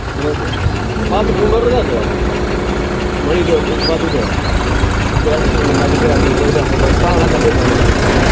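A truck engine idles in a steady, loud low rumble that holds throughout with a faint vibrating drone, while voices talk over it.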